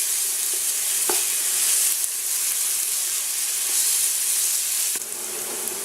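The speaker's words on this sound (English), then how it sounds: "And we saute the onions until they start to color up nicely. Keep stirring, you don't want them to stick." Onions sautéing in a frying pan for Greek meatball sauce, a steady broadband sizzle with scraping stir strokes, including a sharp knock near the start and another near the end, close and loud with no talking.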